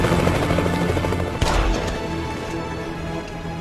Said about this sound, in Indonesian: muncul sebuah helikopter yang menyerang mereka dari depan